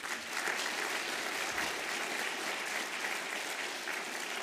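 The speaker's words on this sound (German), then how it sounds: "Applaus" An evening discussion audience at a military history museum in Germany applauds, a dense, even wash of clapping throughout, moderately distant in a large hall.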